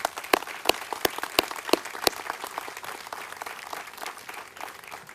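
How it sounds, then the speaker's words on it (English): Audience at a military Soldier Recovery Unit change of command ceremony applauds to welcome John and his family, a few sharp, loud claps up front over a steady, moderate patter of clapping that thins slightly toward the end. "let's take a moment to welcome John and his family to the SRU with a round of applause"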